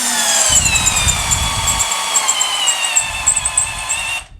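A Milwaukee M12 screwdriver, clutch set to drilling, drives into wood with a loud, continuous whining motor hum and rough grinding bursts, then cuts off abruptly at the end.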